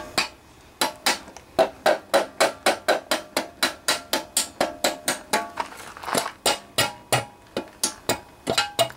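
Rapid, steady hammer blows strike the metal engine cover of a Honda GC160/GC190 pressure washer engine up close, roughly three per second, each with a sharp clank and brief metallic ring, no talking.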